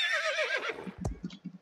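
A horse in a pirate-themed video game gives a loud, close whinny that shakes and falls in pitch, followed by a few soft hoof clops.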